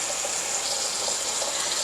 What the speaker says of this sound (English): And then just run some cold water through it.